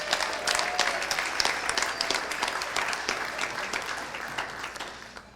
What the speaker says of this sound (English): I feel like we need another round of applause for everybody who spoke tonight.